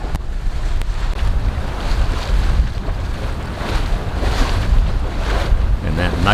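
A sailboat beats upwind through a rough sea at night, with loud continuous waves crashing and rushing against the hull, heavy wind buffeting the microphone throughout.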